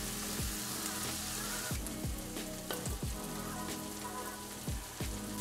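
Chopped garlic sautéing in a pan for a Brazilian-style tamale, a steady close sizzle with soft periodic low thumps, no voice.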